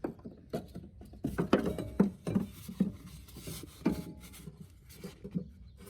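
Hand ratchet working on the top shock mount bolts of a Ford Focus ST during a coilover install, quick clicking strokes in uneven bursts, close and fairly quiet.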